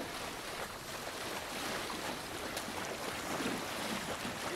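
Viking ships sail along a river in Assassin's Creed Valhalla, a steady broadband rush of water and wind around the hulls, continuous and fairly close with no clear voices.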